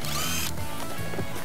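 A power drill bores a hole for a homemade strimmer flying-debris guard, a loud brief whirring burst that cuts off abruptly, followed by a few faint clicks and handling sounds.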